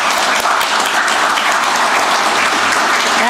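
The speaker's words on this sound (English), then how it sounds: "we'd love to give her a round of applause." Audience applause fills a county commission meeting room, a steady, dense wash of clapping that holds evenly throughout without any voices above it.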